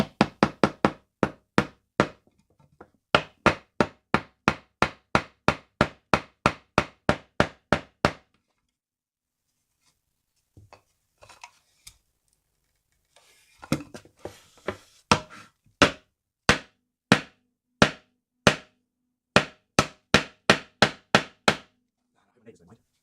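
A hammer made of paper drives nails into a board in rapid, evenly spaced sharp knocks, close and loud, with a pause midway before a second run of blows.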